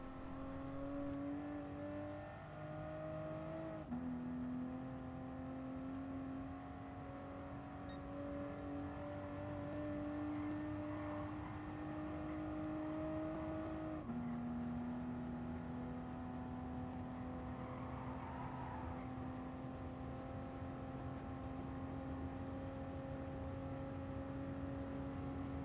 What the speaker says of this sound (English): you can slowly start to accelerate